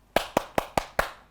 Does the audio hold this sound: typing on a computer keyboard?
no